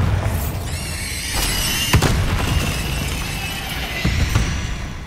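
Bombarda spell explosions in a Harry Potter video game: a dense, loud, continuous roar of blasts with sharp cracking bursts near the start, middle and end, and no voices.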